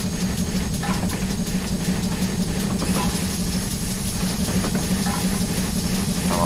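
A steam locomotive in Train Simulator 2022 labours up a steep incline on the Falmouth Branch, giving a steady, heavy low engine drone that holds unbroken throughout, loud and close with no voices.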